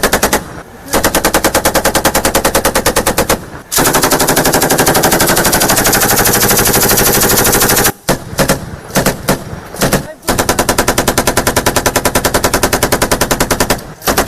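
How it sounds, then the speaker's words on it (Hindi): Machine gun fire from a battle between the Afghan army and the Taliban in Balkh province, Afghanistan: loud, sustained rapid bursts that run for long stretches, broken by a few brief pauses. "जहां पर ये दोनों तरफ से फायरिंग हो रही है"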